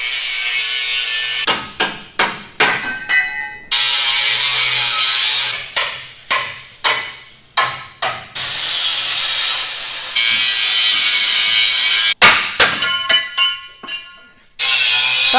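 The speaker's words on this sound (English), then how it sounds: "we get to pull out power tools, which everyone knows are my favorite" Power tools cut and grind during alterations on a 2020 Jeep Gladiator JT being prepared for a Hellcat engine swap, in loud bursts separated by short pauses and repeated rapid strokes, close up with no talk.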